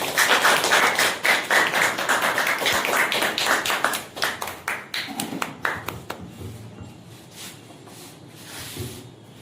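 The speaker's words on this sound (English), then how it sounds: "Clap for Vidya." An audience applauds a performer named Vidya as she is called up at a speaking competition: dense, loud, close clapping for about six seconds that thins into a few scattered claps and fades to near quiet, with no talking.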